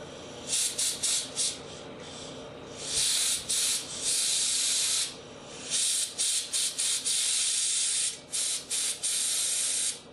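A steam cleaner fires short, forceful hissing bursts of steam through a vape atomizer's center hole, several spurts in an uneven rhythm, close and loud, with no talking.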